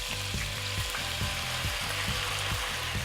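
White wine poured into a hot sauce pan, a steady wet sizzle and bubbling hiss that runs throughout, with rhythmic scraping thumps from a utensil stirring the pan.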